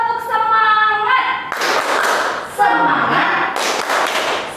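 A group of Indonesian children at a church children's service clap together in a steady rhythmic pattern, with bursts of chanting voices between the claps, loud and close.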